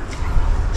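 A short, close burst of whimpering and yipping from an agitated puppy outdoors in an African village kitchen garden, with low background rumble underneath.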